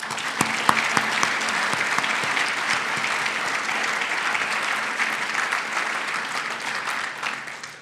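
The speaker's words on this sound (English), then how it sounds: "Applause," A Hall of Fame induction ceremony audience applauds steadily throughout, a dense wash of many clapping hands in a large room, with no talking over it.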